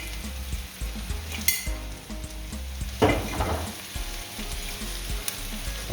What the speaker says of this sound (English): I put my curry in at this stage to ensure that my curry powder is properly cooked out.